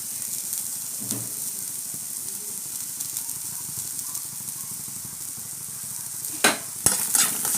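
Bitter gourd sautéing in a pan with a steady, close sizzle and soft stirring scrapes throughout, then a few louder clanks of a utensil against the pan near the end; no one speaks.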